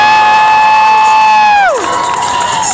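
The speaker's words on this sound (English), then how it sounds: "You let me hear your applause, and we'll find out who takes our best trick contest." A crowd at a freestyle motocross show at the Calgary Stampede cheers and whoops loudly, a steady roar that continues while a whistle-like tone slides down in pitch partway through.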